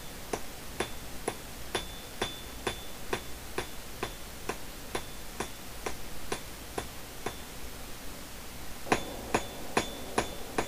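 Blacksmith hammering hot steel to forge a leaf with radial strokes: a steady run of sharp, ringing hammer blows about two per second, clear and close, continuing throughout with no talking.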